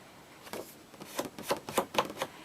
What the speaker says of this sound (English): You can hear that that's quite a bit thicker, the US paper